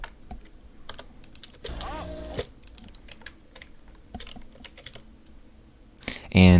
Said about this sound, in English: to split the clips, you press S on the keyboard